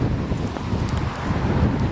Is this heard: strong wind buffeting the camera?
yes